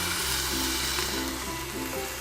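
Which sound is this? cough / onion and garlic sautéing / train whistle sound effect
onion and garlic sautéing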